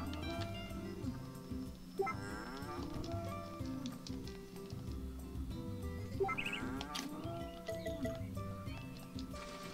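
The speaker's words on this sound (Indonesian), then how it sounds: "Nah ini wedus. Wedus." A goat in the farming video game Story of Seasons: A Wonderful Life bleats twice, short wavering cries a few seconds apart, over a looping background music track.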